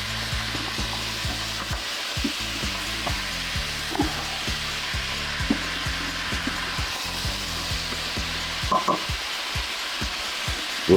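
Carrots and ginger sizzle steadily in a pot at the start of a carrot-ginger soup, with a constant loud frying hiss and repeated scraping knocks from stirring, heard up close without talk.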